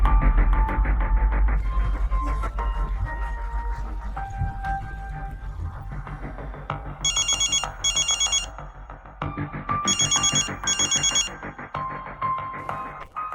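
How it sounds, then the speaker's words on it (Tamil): A telephone in a Tamil TV drama rings in two bursts of double trills over a sustained musical score, clear and prominent with no talk. "தீபக் சொன்னதை கேட்டதும் ஆதவன் உடனே கேசவனுக்கு கால் செய்தார்"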